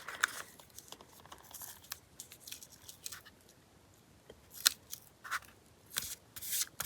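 Scissors snip and trim a crooked paper piece for a journal, giving a string of soft, close crisp cuts with brief rustles of paper between them.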